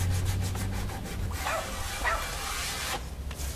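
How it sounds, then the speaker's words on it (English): A painted coffee table is hand sanded with medium grit sandpaper, giving a few soft, scratchy rubbing strokes at close range over low background noise. "I was gonna buy some 80 grit, but I didn't want to sand through the damn table."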